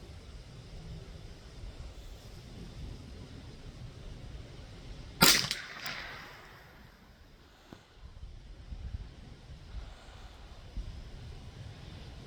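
A Marlin Model 795 .22 LR rifle fires outdoors: one sharp, loud crack midway, followed by a fainter short report about two seconds later, over a constant breezy background.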